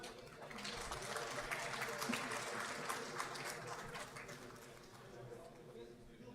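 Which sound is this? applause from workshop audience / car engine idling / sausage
applause from workshop audience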